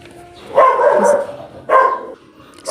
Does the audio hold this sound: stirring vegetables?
no